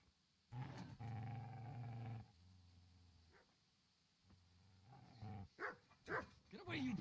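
A dog in the video game Kingdom Come: Deliverance growls in a long low rumble, then snarls and barks in sharp bursts at close range, while a character's voice briefly calls out.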